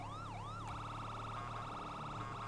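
Police car siren in a video game, wailing up and down and then switching to a fast yelp, steady and fairly loud with no talking.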